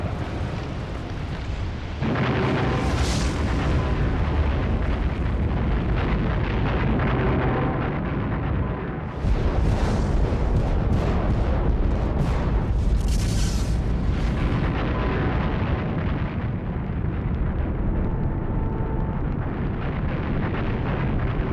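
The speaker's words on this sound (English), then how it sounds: "The blast of a super eruption would be awesome enough" The blast of a Yellowstone super-volcano eruption roars as a sustained, loud rumbling boom with crackling bursts layered on top, surging twice over a long stretch.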